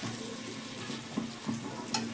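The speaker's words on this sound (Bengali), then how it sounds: "গ্যাসটা কমিয়ে এবার ভাজতে হবে" Neem leaves frying in a pan over lowered gas give a faint, steady sizzle with a few soft clicks, heard close and alone.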